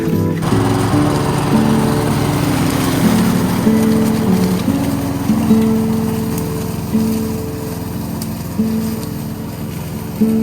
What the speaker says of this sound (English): One simple push of the mower.